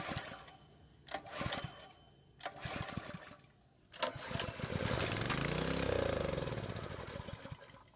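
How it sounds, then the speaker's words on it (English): A gasoline engine on a pressure washer sputters through a few pulls before catching, then revs up loudly, runs briefly at a steady roar and starts to wind down. "the engine started and ran for a few seconds"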